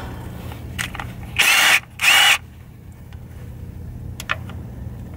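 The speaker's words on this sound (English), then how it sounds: "Now all I gotta do is just loosen all these bolts off the pan" Power tool loosening the transmission pan bolts on a Toyota MR2, heard as two loud whirring bursts of about half a second each in close succession, up close, with faint clicks and low background hum around them.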